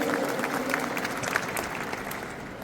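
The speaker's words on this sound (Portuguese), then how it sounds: "A salva de palmas." Audience applause at a Rotary gathering, a short burst of steady clapping from a modest crowd that tapers off slightly toward the end.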